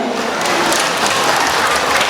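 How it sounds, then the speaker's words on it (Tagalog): A pageant audience at a national costume showcase in San Agustin applauds, a dense, even wash of clapping over about two seconds, loud and continuous. "Wala po bang palakpakan dyan?"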